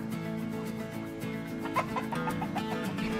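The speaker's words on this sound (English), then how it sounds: "The chickens are loving it down here." Chickens cluck softly and repeatedly, several birds close by in a steady run of short calls.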